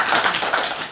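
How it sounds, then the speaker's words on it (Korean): Brief burst of audience clapping at a Korean academic conference, a dense patter of hands for under a second, fairly loud and close with no talk over it. "박수를 좀 보내주시고"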